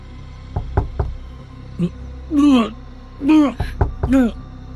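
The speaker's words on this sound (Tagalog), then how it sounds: "Roland, buksan mo tong pintuan!" Sharp knocks on a wooden door in a rural hut, in a few quick bursts of two or three raps, interspersed with loud shouted voices calling out.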